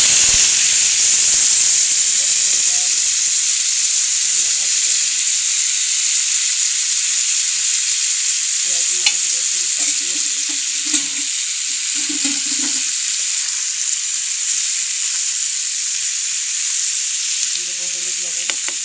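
Pumpkin pieces frying in oil with cumin seeds, giving a loud, continuous close-up hiss and sizzle, with a few faint clinks and stirring sounds mixed in.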